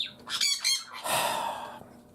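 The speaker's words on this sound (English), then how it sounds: "that bird is loud" A loud bird squawks close by near a beehive, with harsh repeated calls in the first second followed by a longer raspy squawk that fades out.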